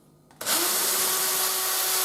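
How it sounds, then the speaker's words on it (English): A power drill spins up sharply and runs at a steady whine while driving screws into a dishwasher panel, close and loud with no talking. "I have a power drill to do it"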